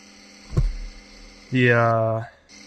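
A car's steady low electrical hum from the thermostat area runs throughout, broken by a soft thump early on and a louder, longer tonal whine that swells and fades.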